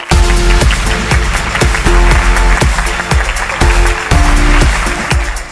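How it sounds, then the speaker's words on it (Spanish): A large audience at an international congress in Antigua Guatemala claps loudly and steadily with a rhythmic pulse, sustained throughout without speech. "Un fuerte aplauso, por favor,"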